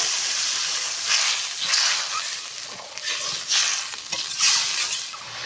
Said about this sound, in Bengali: আমি দিয়ে দেবো জল।